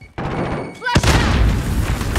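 Flashbang grenade detonating in Modern Warfare gameplay on the Vacant map: a sharp, loud broadband boom right after a brief whoosh, followed by sustained roaring ringing and game noise under a voice.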